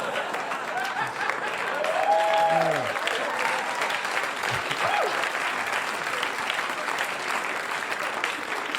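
Applause from a comedy club audience at a live stand-up show in a New York club, a full burst of clapping that swells briefly and then holds steady throughout, with some crowd murmur and vocal reactions mixed in.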